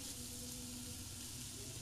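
Diced potato and small cubed carrot fry in a wok with a faint, steady sizzle and a soft hiss, heard close with no talking.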